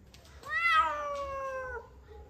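A cat gives one loud, long, wavering meow close up, one of several newly acquired cats, with quiet background before and after.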